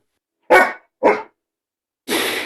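Sadie, a stray dog in the video game Alt-Frequencies, gives two sharp, close barks about half a second apart, then a third, longer bark is cut off at the end.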